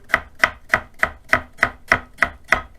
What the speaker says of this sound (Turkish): İnce piyaz şeklinde doğrayalım.